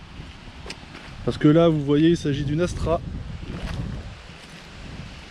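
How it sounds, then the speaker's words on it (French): Coastal wind in Normandy buffets the microphone in low rumbling gusts that continue throughout, while someone speaks French over it about a car. "Désolé pour le vent, on est en Normandie comme d'hab, il y a toujours du vent."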